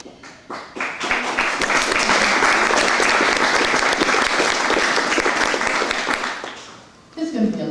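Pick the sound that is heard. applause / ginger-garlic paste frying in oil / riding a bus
applause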